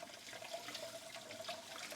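Hot tap water pours steadily into a kitchen sink, splashing over a Tupperware container being rinsed, a continuous close hiss and trickle.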